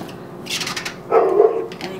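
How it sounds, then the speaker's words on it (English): A dog barks a few times nearby, short sharp yaps clustered together, fairly loud against a quiet indoor background. "you can probably hear my dog barking"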